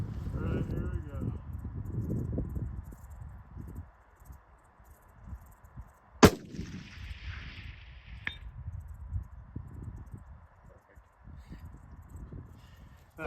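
One sharp, sudden crack from a custom-built 6.5 PRC rifle stands out against a quiet outdoor background, with faint rustling and low murmuring before and after.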